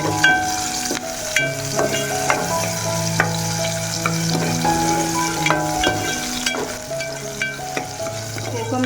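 Kokum sizzling and frying in hot oil as a base for masoor dal, a steady close crackle with light stirring scrapes running under background music.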